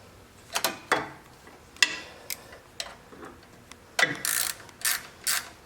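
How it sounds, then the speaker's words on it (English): A bolt on a clamp holding a John Deere choke cable is tightened with a ratcheting tool, giving a close series of irregular clicks and metallic ratchet bursts, with a few short runs of rapid clicking and no voices. "and tighten the bolt down."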